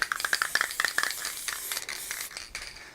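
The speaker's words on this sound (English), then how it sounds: "So I just gave it a quick spray." Several short hissing bursts of aerosol varnish spray in quick succession, then a longer continuous hiss, close by and fairly quiet.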